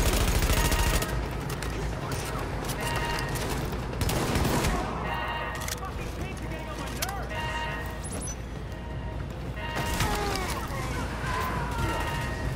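Rapid gunfire in the shooter game Tom Clancy's The Division, bursts of automatic shots running densely through the clip, with a player talking over it.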